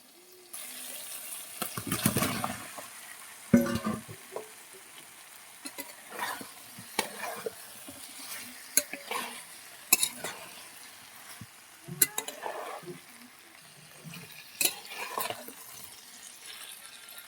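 Chopped ridge gourd tipped into hot oil and spices in a pan for a fish curry, giving a steady sizzle with stirring clatter and scrapes throughout, close and moderately loud.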